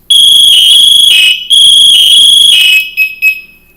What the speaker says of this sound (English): I'm going to go full alarm real quick